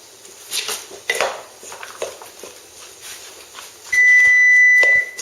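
A kitchen oven sounds a steady electronic tone, about a second long, once it finishes preheating, following a stretch of light clinks and soft handling noises.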